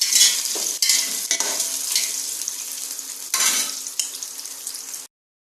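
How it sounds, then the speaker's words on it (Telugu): Beetroot and carrot fry in a pan with loud, close sizzling, broken by several sharp scraping stirs of a utensil, then stopping abruptly. "బీట్రూట్, క్యారెట్ ఇవి కొంచెం ఫ్రై అవుతాయి."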